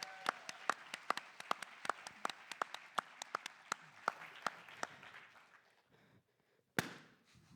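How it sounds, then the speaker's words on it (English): An audience at a FameLab Academy science-communication final at Cheltenham Festivals claps for a contestant. Sparse, distinct claps come from a modest crowd, thinning and fading to quiet, then a single loud burst sounds near the end. "Give a massive round of applause to Poppy"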